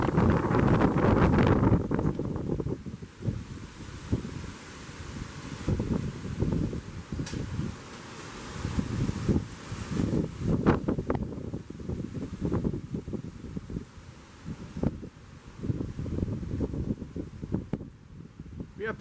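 Strong thunderstorm wind gusts of around 60 mph rush and rumble in bursts against the microphone, rising and falling across the whole stretch, with faint talk underneath.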